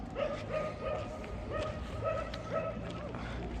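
Several dogs bark and yelp at a distance outdoors in Kharkiv, Ukraine, in a repeating pattern of short barks roughly every half second over a steady background hum.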